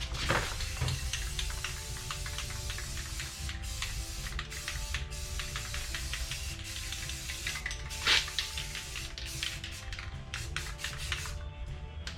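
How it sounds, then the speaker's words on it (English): Patina paint sprayed from a distance onto a custom deck lid for a 1927 car, a continuous hissing spray broken by short repeated bursts and a few louder pulses, close and steady. "just kind of spray it on just so you can still see a little bit of black coming through"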